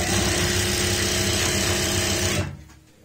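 A sewing machine runs steadily, stitching a narrow-margin seam through fabric while making palazzo trousers, a continuous close mechanical whir that cuts off abruptly near the end.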